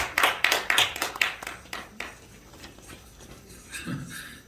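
An audience claps at a church gathering as the host introduces a lecture, with a quick run of sharp claps that soon fades into quieter room noise.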